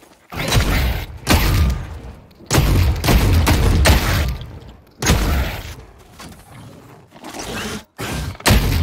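Bursts of gunfire in the shooter game The Cycle Frontier, coming as loud repeated volleys separated by short pauses and heavy thumps.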